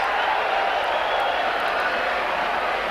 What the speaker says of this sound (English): Well, the crowd going mad there.